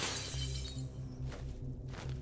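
Glass windows smash in the video game Cataclysm DDA, a bright crashing shatter at the start with tinkling debris after, over a steady low droning game music loop.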